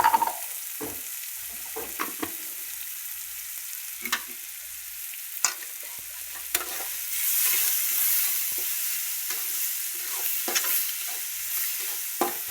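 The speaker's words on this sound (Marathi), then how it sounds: "कांदा कसा भाजलाय." Onion frying in a pan makes a continuous crackling sizzle, with sharp spatula scrapes and knocks scattered throughout and the hiss swelling briefly midway, heard up close with no talking.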